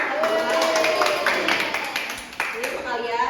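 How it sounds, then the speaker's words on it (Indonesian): Children in a primary school classroom clap together in a steady wash of applause, with overlapping voices and chatter running through it. "Tepuk tangan dulu ya."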